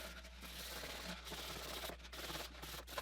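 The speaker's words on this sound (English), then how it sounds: "But I have to use the same sandpaper." Sandpaper scraped by hand across a plastic NERF blaster in back-and-forth strokes, a close, fairly soft hiss and rasp that pauses briefly between passes, with no talk.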